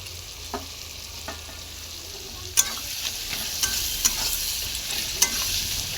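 Chopped tomatoes go into a pan of well-cooked spice masala with the oil separating, and a steady, bright sizzle follows, broken by a few sharp stirring clicks and scrapes. There is no talking.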